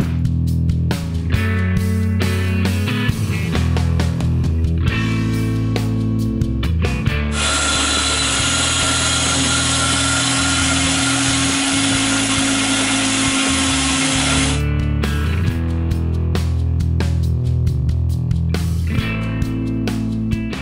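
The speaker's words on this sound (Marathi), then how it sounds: "सर्वात आधी हिरव्या मसाल्याचं वाटण करून घेऊया।" Green masala paste whirring in a kitchen grinder, a loud high-pitched grinding burst lasting several seconds, preceded and followed by other kitchen sounds, with no speech.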